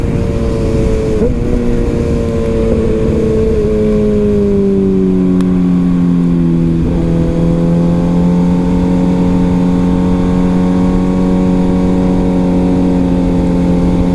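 A Kawasaki Ninja ZX-6R sport bike fitted with a Power Commander tune rides off a freeway exit. Its engine drones loud and steady throughout, and the pitch eases down through a couple of shifts as the bike slows. No one speaks.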